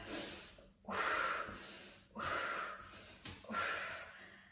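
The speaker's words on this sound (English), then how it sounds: "Breathing in as you lower, out on the left, in through the nose" Steady nasal breathing during a core exercise routine: three loud, airy breath cycles of inhaling and exhaling through the nose, close to the mic, with short pauses between them and no talking.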